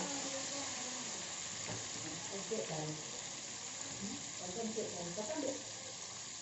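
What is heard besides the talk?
tomatoes frying in a pan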